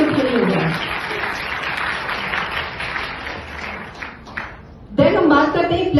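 Audience applause at a Modicare business presentation, a long, steady wash of clapping from a crowd that rises after a brief spoken lead-in and fades near the end as a voice resumes talking.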